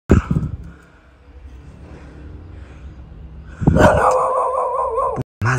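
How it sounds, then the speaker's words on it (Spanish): A dog makes a few short, sharp vocal sounds at a cemetery in Lima, near and brief, with a quieter stretch between them and panicked human voices around. "hay un perro, hay un perro, hay un perro"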